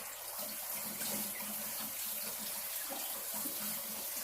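Tap water runs steadily to flush a house plant set in leca, a continuous close hiss of flowing water with light splashing and no voices.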